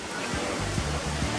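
Waterfall at Kathu Waterfalls, a steady broadband rush of falling water, near and continuous, with faint low voices blending into the roar.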